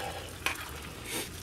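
Rice simmers in a pan on an RV stove as its water boils away, giving a soft, steady sizzle with a brief sharp clink and a swell of bubbling near the end.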